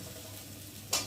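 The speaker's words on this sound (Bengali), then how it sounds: "টমেটোটা একটু ভালো করে ভেজে নেব।" Tomatoes frying in a pan for a bhetki fish curry, a soft, even sizzle close by that ends in a brief louder clatter or scrape.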